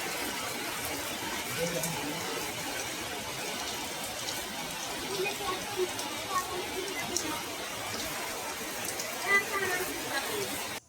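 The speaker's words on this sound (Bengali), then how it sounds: "একটু জোরে জোরে ঝড় বৃষ্টি যেটা বলার বাইরে" Steady, dense hiss of heavy rain in a storm pouring down throughout, a constant broadband wash with no pauses.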